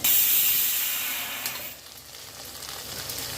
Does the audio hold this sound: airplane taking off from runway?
no